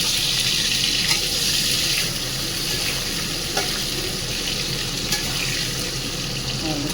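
Potatoes go into hot oil with dried and green chillies for a rohu fish curry, giving a loud, steady sizzle with occasional stirring clinks close up.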